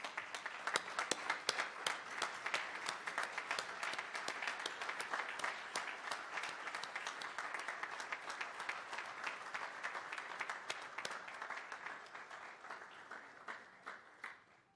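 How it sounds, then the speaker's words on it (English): A temple assembly gives a standing ovation, with steady, fairly faint applause from many hands that holds for a long stretch and then thins out toward the end. "So please acknowledge Kantibai and Ranjuben with a standing ovation"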